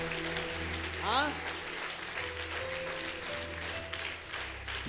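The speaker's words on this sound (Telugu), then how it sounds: "ఒకసారి గట్టిగా చప్పట్లు కొట్టండి" A congregation at a church sermon claps hard and steadily in a dense, sustained round of applause, with a voice and some tonal sound faintly over the clapping.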